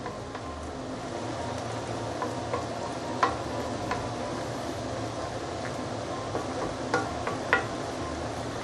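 Prawns and lean meat frying in a wok for Singapore hokkien mee give a soft, steady sizzle, with occasional sharp clinks and scrapes of a utensil against the pan.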